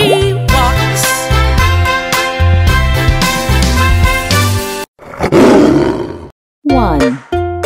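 Lion or tiger roar dropped into a children's counting song, a short loud roar burst alone after the musical backing cuts out, followed by a brief pop and more music.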